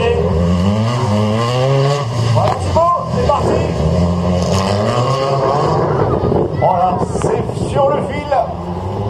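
A slalom race car at Saint-Lô in 2017 accelerates out of a chicane, its engine rising in pitch. It sits under a commentator's excited talk.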